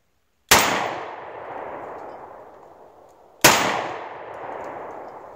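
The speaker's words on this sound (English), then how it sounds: "let's go ahead and shoot some of those factory loads" A .38 Special revolver firing 130 grain factory loads, two sharp loud reports about three seconds apart, each ringing out with a long echoing tail, no voices.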